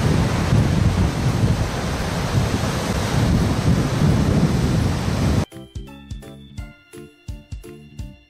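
Waterfall at Kozagawa in Wakayama, a loud, steady broadband roar of falling water filling the first five seconds, then cutting abruptly to a short stretch of music.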